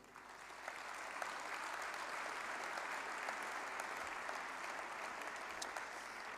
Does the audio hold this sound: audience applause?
yes